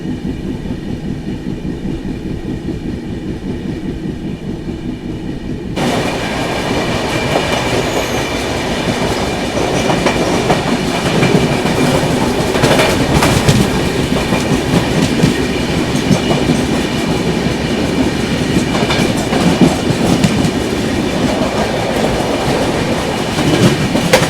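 The Bhubaneswar–New Delhi Duronto Express rolls through Mirzapur station at night, heard from inside a 3rd AC coach: a steady rumble swells after a few seconds into loud, continuous clickety-clack and rail roar.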